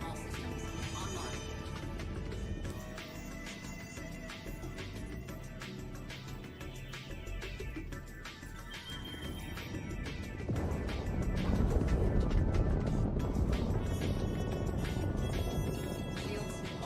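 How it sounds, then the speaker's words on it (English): Spaceship engines run with a steady, loud roar and hum in the Star Citizen video game, continuous throughout and swelling slightly toward the end, with no talk over it. "We left the engines running."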